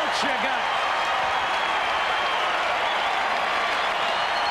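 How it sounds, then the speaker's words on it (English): A hockey crowd at a 1994-95 NHL game between the St. Louis Blues and the Dallas Stars cheers and applauds in a loud, dense, unbroken wash of clapping and voices. "He's putting on a show, and the crowd's loving it."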